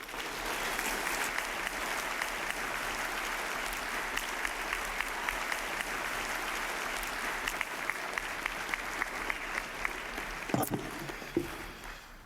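A live audience applauds as Bishop Robert Barron is welcomed on stage, steady sustained clapping from a large crowd filling the hall, fading toward the end.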